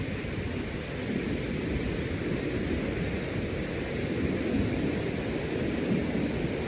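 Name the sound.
ocean waves breaking on the shore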